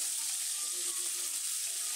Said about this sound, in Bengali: মাছগুলোকে আমি একদম লাল করে ভেজে নিচ্ছি।